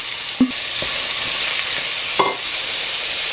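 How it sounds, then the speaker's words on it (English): Onion hitting hot vegetable and olive oil gives a loud, steady frying sizzle, with a couple of sharp clinks or stirring knocks near the start and middle, and no voices. "I'm gonna add my onion"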